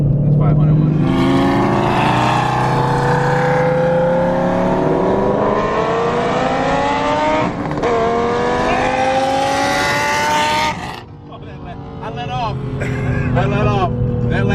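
A 2020 Shelby GT500 accelerates hard while racing a modified Lamborghini, its engine note climbing loud and steady through the gears from inside the car before lifting off near the end, with voices talking over it.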